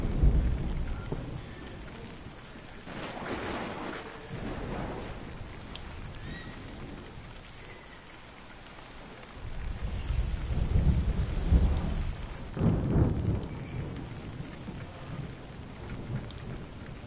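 Thunderstorm at sea in Assassin's Creed Odyssey, with steady rain and surging gusts, and two heavy thunder rumbles that swell loud midway and toward the end.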